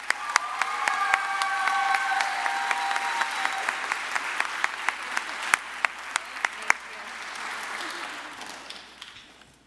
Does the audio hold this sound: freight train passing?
no